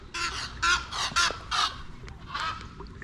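Several loud goose honks in quick bursts near a fishing boat in Florida, calls repeating in a ragged rhythm with short gaps between them.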